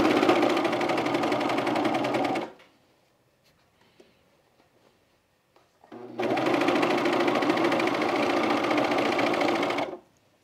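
A sewing machine stitches a pocket on Carolyn pajama bottoms, running in two steady, close bursts of about two and a half and four seconds, with a quiet pause of faint handling noises between them.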